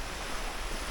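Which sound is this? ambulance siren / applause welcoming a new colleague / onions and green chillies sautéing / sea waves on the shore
sea waves on the shore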